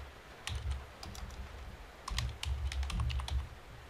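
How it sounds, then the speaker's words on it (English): A password is typed on a computer keyboard in two short runs of soft, rapid key clicks, close and quiet, with a brief pause between them. "So we're going to put in a password."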